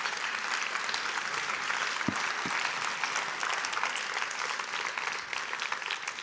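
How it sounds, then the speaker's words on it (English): Steady applause from a conference audience at a session on retrofitting cities and buildings, a continuous wash of many hands clapping, moderately distant, with a couple of sharper claps near the middle. "please give her a warm round of applause"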